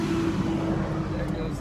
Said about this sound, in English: There goes the tow truck.